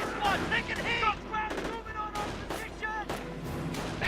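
Video game battle audio with rapid bursts of gunfire from a machine gun nest and scattered distant shots, loud and close, while a voice talks over it.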